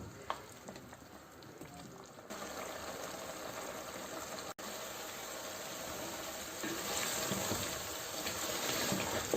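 Mutton fries in oil in a pot for aloo gosht curry, a continuous close sizzle and hiss that grows slightly louder toward the end, with a brief dropout midway.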